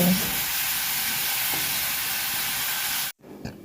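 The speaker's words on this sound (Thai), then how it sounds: "ย่างเห็ดเลย" Mushrooms sizzle on a grill with a steady, close hiss that cuts off abruptly near the end.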